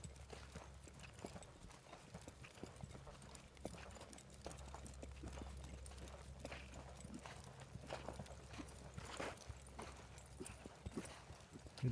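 Horse hooves cantering on arena footing: steady, soft rhythmic hoof beats at a moderate distance, repeating throughout under a low background hum, with occasional faint voices.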